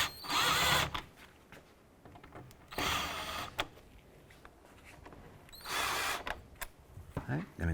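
A power drill drives screws into the grille of a 2011–2018 Volkswagen Jetta during a fog light kit install, giving three short whirring bursts separated by quieter pauses with small clicks and handling noises.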